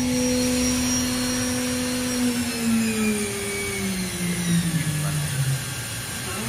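A Doosan DNM 5700 CNC machining center's spindle running at high speed toward 15,000 RPM gives a steady, fairly loud electric whine whose pitch slowly drifts, over a low mechanical hum.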